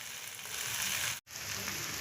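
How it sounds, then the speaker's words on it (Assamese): Mixed veg and egg chowmein frying in a pan, a steady, close hiss of sizzling that cuts out for a split second midway, then carries on. "দি মই এইখিনি এতিয়া অকণমান ভাজিম"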